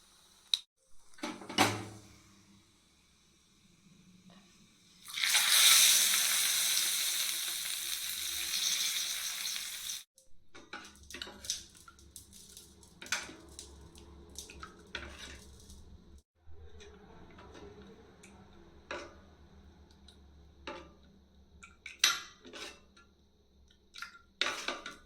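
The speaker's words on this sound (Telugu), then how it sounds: "ఇప్పుడు ఈ మిశ్రమాన్ని మజ్జిగలో వేసుకుని కలుపుకోవాలి" Hot tempering with curry leaves poured into buttermilk for aava majjiga gives a loud hissing sizzle of several seconds, followed by quieter scattered clinks and scrapes of stirring in a pot.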